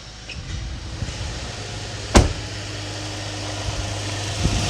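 A 3.6 Pentastar V6 idles steadily close by with a low hum, a faint tick running through it from a worn cam phaser, and one sharp clack partway through.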